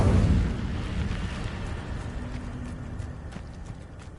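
A fire spell cast in a Hogwarts video game bursts out as a loud, low whooshing blast at the start, then settles into a sustained rumbling crackle that slowly fades.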